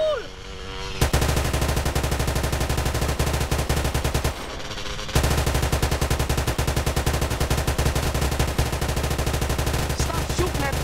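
Rapid automatic gunfire in GTA San Andreas during a drive-by chase, loud, dense bursts filling most of the stretch with a brief pause midway, voices faintly under the shooting.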